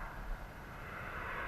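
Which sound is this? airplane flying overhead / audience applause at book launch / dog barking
airplane flying overhead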